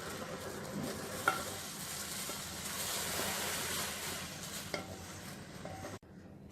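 Roasted vermicelli stirred into boiling milk for semiya payasam, a steady close bubbling and sizzling simmer with soft stirring scrapes and a brief clink, running continuously before cutting off near the end; no talking.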